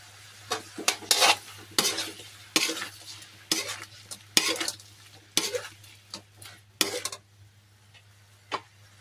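Shrimp cooking in a pan, with a faint sizzle behind repeated clattering scrapes of a utensil stirring against the pan in irregular bursts, close and fairly loud, and no talking.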